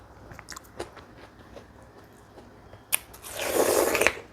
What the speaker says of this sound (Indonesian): Langsung digigit aja.